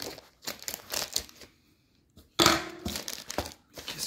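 Cardboard packaging being opened close up: bursts of crinkling, rustling and tearing in uneven handfuls, a short pause, then a louder rip followed by more scrunching.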